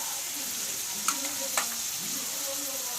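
Onions fry in a pan over a medium flame with a continuous soft sizzle, broken by a couple of sharp stirring clinks.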